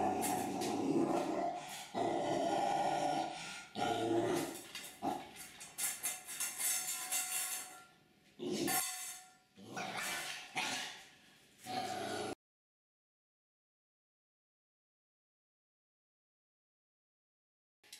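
A restrained puppy guarding its food gives off bursts of snarling growls and sharp yips, close and loud, broken by short pauses before falling silent.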